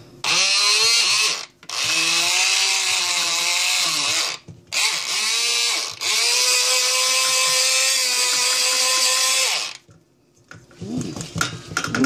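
An electric hand mixer beats a coconut flan mixture in a bowl with a loud, steady, high whir, briefly cut off twice and stopping near the end, leaving faint handling noise.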